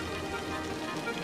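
Steady rain falling in the city-building game Cities: Skylines, a soft continuous hiss of rainfall, faint and even, with no other sounds.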